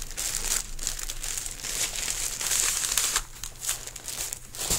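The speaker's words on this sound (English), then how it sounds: "And here's one item. They are plastic bags." Plastic bags crinkle and rustle as they are handled and opened, a close, continuous crackling with short bursts and no speech.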